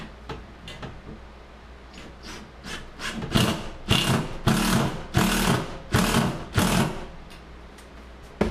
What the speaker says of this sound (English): I'm going to put in my first lag bolt up on the top here.